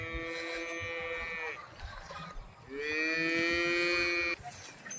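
A black-and-white Holstein Friesian cow gives two long, loud moos close by, separated by a short pause with faint background noise.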